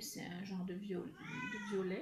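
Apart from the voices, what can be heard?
cat in heat meowing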